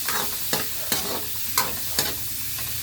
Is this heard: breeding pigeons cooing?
no